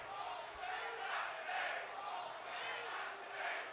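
A WWE 2K25 arena crowd roars in swelling waves, a mixed cheer-and-boo reaction rising and falling several times in a sustained, echoing wash of noise.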